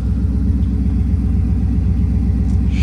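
A 454 big-block V8 in a square-body truck with a Sniper fuel injection setup runs at a steady, throbbing idle, loud and close, a deep pulsing rumble with no talk over it.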